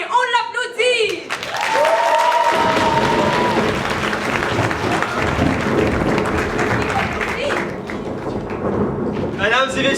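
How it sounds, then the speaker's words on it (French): A school show audience breaks into loud applause and cheering after brief voices at the start, the clapping staying dense and steady with shouts mixed in, and more voices return near the end. "Allez, on l'applaudit."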